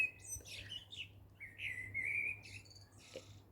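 A blackbird sings from a treetop, with clear melodic whistled phrases and chirps in bursts separated by short pauses, moderately distant over a faint low background hum.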